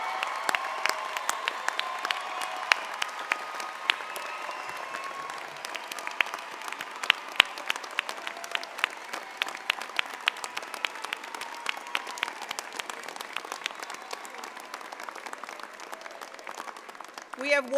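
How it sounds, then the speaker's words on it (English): Audience applauding graduates at a university commencement ceremony, a steady wash of many hands clapping in a large hall, moderately distant, continuing for the full length. "please join me in a big round of applause for our graduates"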